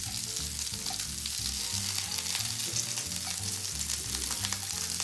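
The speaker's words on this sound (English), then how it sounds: "We're continuing to saute our peppers." Peppers blister as they sauté in a hot pan, giving a continuous dense sizzle and crackle at an even level throughout, close up and with no voices.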